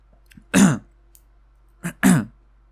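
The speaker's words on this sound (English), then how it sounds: "I cough, so I try to drink something, and then it goes down the wrong pipe." A person coughs and clears their throat after a drink goes down the wrong way: one strong cough, then a short pause and two more close together, near and loud.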